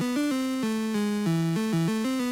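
A lower-register FamiTracker chiptune voice with reverb plays a short bass-like line of plucked, pizzicato-style notes stepping up and down, clean and steady with no other sounds.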